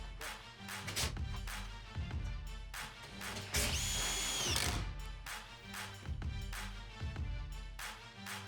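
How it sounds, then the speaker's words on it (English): A power drill drives screws through metal roofing into the roof purlins of a building under construction. The motor whirs in repeated short bursts, with one longer high whine in the middle, close and fairly quiet, with no voices. "They're putting screws in every roof purlin 24 inches on center."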